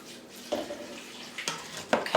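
Pure white vinegar pours into a pot for Newfoundland rhubarb relish, a short watery splashing with a few louder gushes as the liquid hits the pot, close up and without talk.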